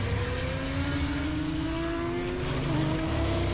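A Korean sportsbike's engine runs steadily on a race track, a loud continuous drone with rising harmonic pitch and a brief dip as the rider makes a backwards gear shift, carried over constant wind noise.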